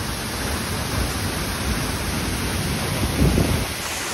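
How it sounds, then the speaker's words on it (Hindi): A powerful waterfall roars with strong rushing water, a loud, steady broadband wash that fills the scene without a break. "पानी का बहुत तेज है, आप देख सकते हो इधर पानी का फोर्स"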